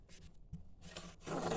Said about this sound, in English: That's just me pulling the rope through as fast as I can.